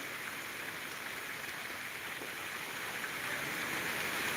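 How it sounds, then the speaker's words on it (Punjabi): Steady, dense rain hisses continuously, a heavy downpour with no voices over it, in Kot Shamir village, Bathinda district, Punjab. "ਇੱਥੇ ਬਹੁਤ ਤੇਜ਼ ਮੀਂਹ ਹੈ ਬਾਈ"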